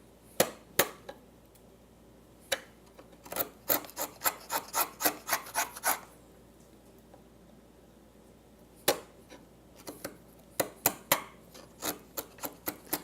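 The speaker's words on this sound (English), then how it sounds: "I put my fingers on top to help stabilize the chisel" A chisel paring wood down to a line while cutting a tenon, producing a series of short, crisp scraping strokes close by. The strokes come in quick bursts separated by brief pauses.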